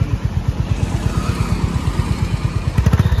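A Honda CB350RS motorcycle on a test ride, its engine thumping in a fast, even pulse close to the microphone, with a short burst of harder revving near the end.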